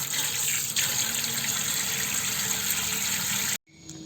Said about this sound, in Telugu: దీన్ని శుభ్రంగా నీటితో బాగా కడగాలి.